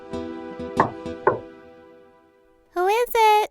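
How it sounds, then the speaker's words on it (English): Knocks on a door, two sharp raps in the first second and a half, followed by a voice speaking briefly near the end. "he knocked on their door"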